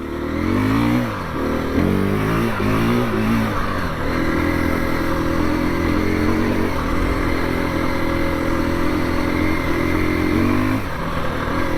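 A 2021 KTM 350 EXC-F dirt bike with a 13-tooth sprocket is ridden hard, its four-stroke engine revving up and down in loud, close bursts with steady drone between throttle changes and faint clatter, no talk.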